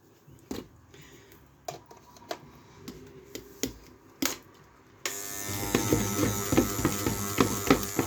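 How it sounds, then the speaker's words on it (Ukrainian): After a few soft clicks and knocks, a blender starts up and whirs steadily, a loud continuous motorized buzz with no voices. "блендер такий."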